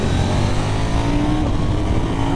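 A 2024 KTM 990 Duke motorcycle accelerates hard out of corners, its engine roaring loud and close as a sustained rising drone mixed with heavy wind rush.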